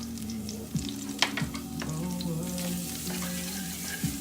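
Minced shallots sweat gently in butter in a pan, a soft continuous sizzle with occasional low wooden-spoon scrapes and taps, close and steady without talk.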